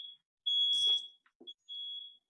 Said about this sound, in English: I have a fire alarm going off in my house.